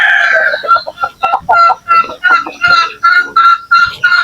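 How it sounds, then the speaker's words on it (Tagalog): Young Kanawayan chicks, a few weeks to a month old, peep and chirp in quick loud repeated calls close by, one after another with brief pauses. "Ito po yung mga sisiyo natin na kanawayan"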